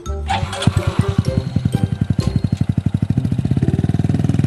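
A Honda Wave 110i motorcycle fitted with a new RAN exhaust, revved hard close by: rough throttle blips settle into a rapid, rising run of loud, evenly spaced exhaust pulses that quicken toward the end.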